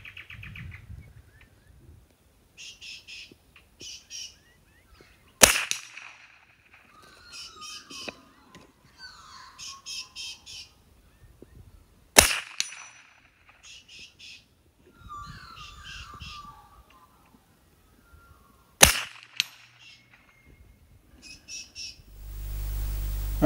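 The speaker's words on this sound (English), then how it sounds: "So let's go ahead now and take a few shots." Rimfire rifle fitted with a Bushnell 3-12x40mm Multi-X scope, fired outdoors at cans about 125 away: three sharp, loud single shots spaced several seconds apart, with crows cawing and other birds calling between them.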